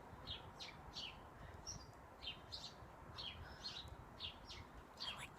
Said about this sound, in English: I like the sound of the birds.